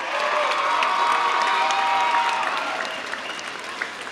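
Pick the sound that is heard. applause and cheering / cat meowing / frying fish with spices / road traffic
applause and cheering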